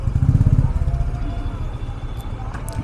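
A motorcycle rattles and thumps over a badly potholed highway stretch between Raiganj and Kolkata, its engine droning close by with jolting clatter, loudest at the start before settling into a steady rumble.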